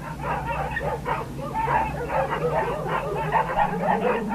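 A pack of sled dogs on a frozen icy sea barks and yips continuously, many overlapping excited calls over a low rumbling background.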